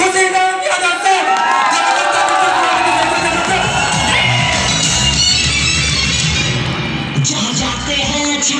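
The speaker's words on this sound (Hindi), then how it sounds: "आप सबकी जबरदस्त तालियों के साथ welcome on the stage mister Khushiram Yadav sir." A large auditorium audience at a direct selling recognition event in Jaipur cheers, whoops and applauds loudly as a guest is welcomed on stage, a dense, continuous roar of crowd noise.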